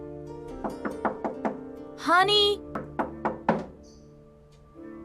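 Someone knocks on a door in a drama series, two quick runs of about five sharp raps each, close and clear, with a voice calling out between them.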